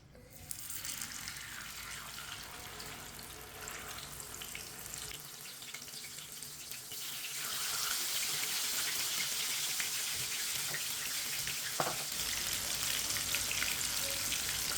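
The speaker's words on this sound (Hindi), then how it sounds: "ऑयल हमारा अच्छी तरह गर्म हो चुका है। इसी तरह एक एक पीस लेंगे और डालते जाएंगे।" Chicken pieces are dropped one by one into hot oil in a pan on a stove, a steady hiss that swells into a louder, fuller sizzle partway through, with no voices.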